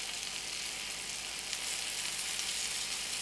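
Sausage patties for pancake breakfast sandwiches frying in a pan, a steady close crackling sizzle with no voices.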